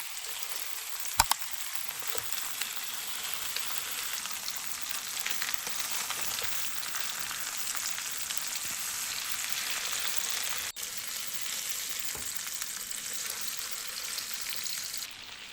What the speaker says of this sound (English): Add a bit of butter, let it melt, and now place the chicken in. You should hear that nice sizzle right away.